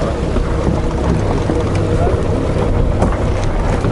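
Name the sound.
sailboat tacking, wind and water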